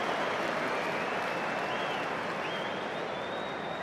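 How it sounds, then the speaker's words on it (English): A rugby stadium crowd applauds a man of the match at the All Blacks versus Barbarians 2017 match, with dense, steady, far-off applause and crowd roar filling the whole stretch at an even level. "He's got a terrific round of applause there as the announcer relayed that man of the match decision to the crowd"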